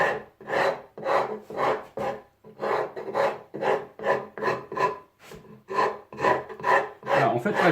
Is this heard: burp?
no